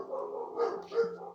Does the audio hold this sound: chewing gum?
no